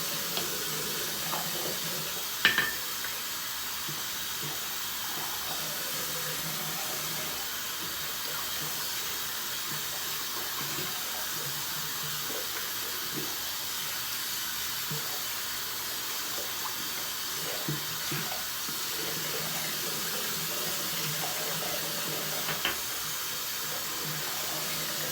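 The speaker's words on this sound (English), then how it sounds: "Rinse off the brush" A shaving brush and bowl rinsed under a running tap: a steady, even gush of water that continues for the whole stretch with little change, plus a few faint knocks and clinks.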